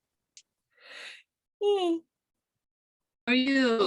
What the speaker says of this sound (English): I apologize for the yawning.